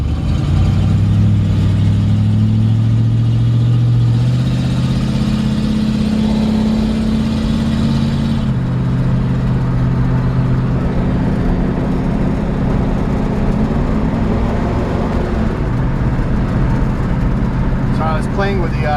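A 1951 Ford F1 truck drives along, its engine droning and rising and falling in pitch as it moves through the gears, with someone talking over the steady road noise.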